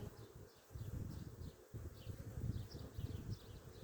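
Honeybees hum steadily throughout a hive inspection in spring, a dense continuous buzz from many insects close by, with no talking.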